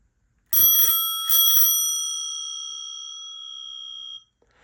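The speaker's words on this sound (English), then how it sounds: "I've got a bell, and I'll ring that right now." A Ritten Rotary bicycle bell rings twice in quick succession, loud and close, then its bright, resonant tone lingers and slowly decays for several seconds before fading out.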